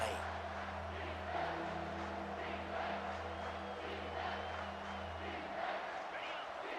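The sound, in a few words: stadium crowd cheering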